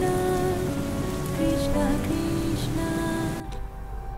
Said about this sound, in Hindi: उन्होंने बहुत ही तीव्र मूसलाधार बारिश की शुरुआत कर दी